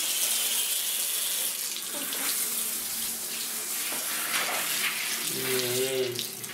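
A tap runs steadily with a loud rushing hiss of water into a basin, and a voice briefly speaks near the end.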